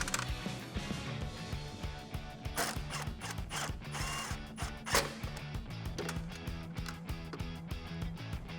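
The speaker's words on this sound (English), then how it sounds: "with your 10mm socket, go ahead and tighten it down" A ratchet with a 10mm socket tightens the mounting bolts of an LED projector headlight on a 2009-2018 Ram 1500, giving quiet, close clicking bursts with a few sharper knocks.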